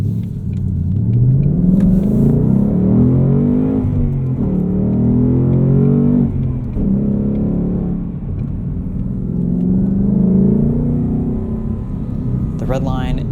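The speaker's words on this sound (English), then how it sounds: "why would you want to quiet this beautiful exhaust note? It sounds amazing." The 5-liter V8 exhaust of a 2018 Ford Mustang GT Performance Package Level 2 revs up and down repeatedly, loud and close, its deep rumbling tone rising and falling in long sweeps.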